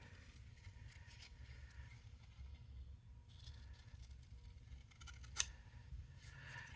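Paper is cut with scissors in a quiet craft setting, with a few soft snips and rustles over a low background hum, faint and close.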